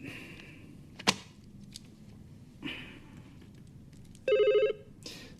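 A telephone rings in a quiet room with a short electronic trill, heard alone after a few sharp clicks and knocks, clear and moderately close, no one speaking.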